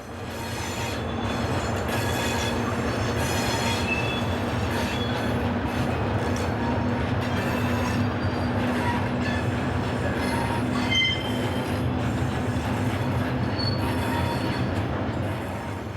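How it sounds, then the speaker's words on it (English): An electric locomotive restarts its train south of Istres, France, rumbling steadily close by, with a low motor drone, rolling wheel noise and occasional metallic squeals, building as it gets under way. "Number 6533 restarts its train just to the south of Istres, close to Miramar."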